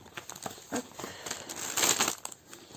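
Paper crinkling close up while embroidery kits are being handled, with irregular rustling bursts that swell into a louder crackling stretch near the end.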